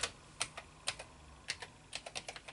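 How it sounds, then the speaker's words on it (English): Quiet computer keyboard keystrokes on an older home computer system, a few isolated taps followed by a quicker burst of clicks, close and alone with no talking. "In basic you have to type call"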